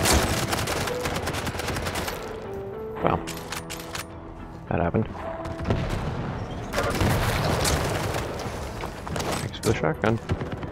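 Shotgun blasts and rapid weapon fire from the arena shooter Quake Champions ring out in a busy, loud barrage of sharp bangs, with electronic tones and other game effects mixed in and voices talking over the action.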